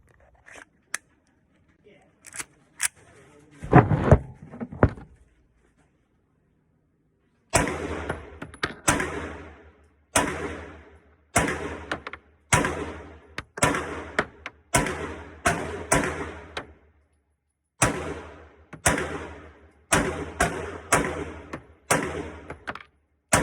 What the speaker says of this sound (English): We still have to take this to the range, make sure it shoots.